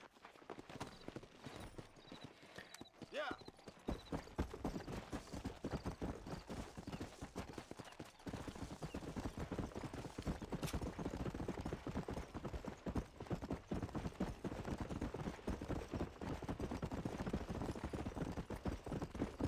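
Horse hooves clip-clop in a video game in a fast, steady galloping rhythm that continues throughout at moderate level.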